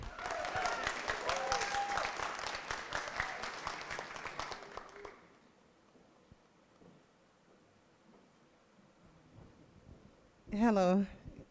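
Warm applause from a seated audience for a presenter at a talks event, a dense clapping wash for about five seconds that fades out, followed by quiet room tone and a brief loud burst near the end.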